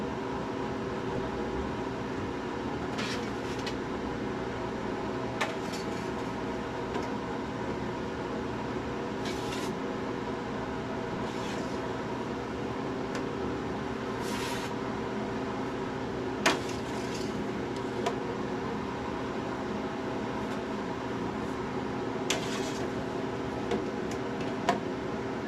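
A Harvest Right freeze dryer runs with a steady, even mechanical hum and hiss, faint and constant, with occasional small ticks and clicks scattered over it.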